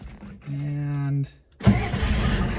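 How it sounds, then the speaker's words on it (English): A Ford F250 with a 6.9 IDI diesel is started with the key: a steady cranking drone for under a second, a pause, then the engine catches and runs with a loud, rough rumble. "that should be all that we need to actually start it with the key"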